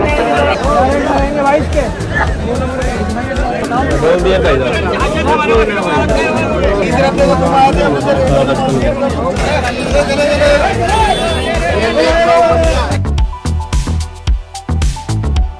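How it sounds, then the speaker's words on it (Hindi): Dense crowd babble fills a packed Chor Bazaar market, a loud continuous hubbub of many overlapping voices that thins and turns choppier near the end. "खतरनाक भीड़ हो रखी है।"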